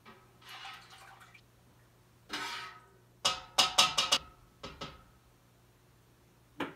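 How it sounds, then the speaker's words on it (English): A dye spoon stirs skeins of yarn in a dye bath, giving soft sloshes followed by a quick cluster of sharp wet knocks and clinks against the pot, close by and fairly quiet. "My handy dandy dye spoon. It's got all kinds of colors on it, but works really well. I'll give it another stir."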